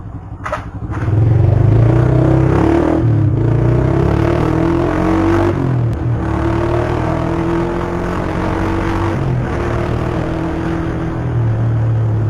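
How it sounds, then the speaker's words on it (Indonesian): A loud Honda Verza 150 motorcycle engine with a dual-sound exhaust rumbles continuously up close, its throaty exhaust droning steadily with slight shifts in pitch. "Sorry pak, motornya berisik pak."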